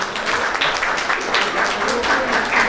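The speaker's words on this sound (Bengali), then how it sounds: "জোরে করতালি ওনার জন্য।" Applause from the audience at a Rabindra-Nazrul evening stage show hosted by a dance academy, a steady wash of clapping filling the hall throughout with a few louder bursts.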